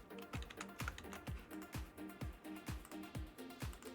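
Repeated keystrokes on a computer keyboard, tapping out numbers in a steady rhythm of crisp clicks, close and fairly loud with no talking.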